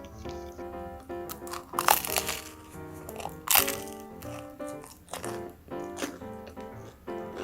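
Crispy morning-roll egg bread with soft-boiled egg, bacon and cheese, made in an air fryer, being bitten and chewed close up, with several loud crunchy bites and softer chewing in between, no talking.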